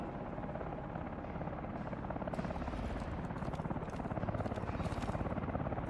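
Helicopter in the video game Call of Duty: Advanced Warfare during a prison shootout, its rotor giving a continuous heavy thumping whir that stays loud and close throughout, with no other clear sounds over it.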